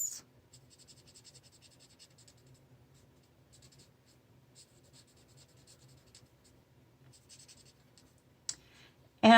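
A pen with a small nib colors in a drawing with ink, giving faint, steady scratching strokes close by, with short pauses between the strokes and a louder knock near the end.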